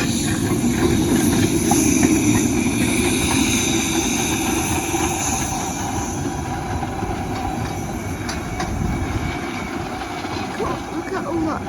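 A double-headed train rumbles steadily past the Common Lane level crossing in Somerset, a loud sustained roar of wheels and engines with squealing tones, with voices talking over it.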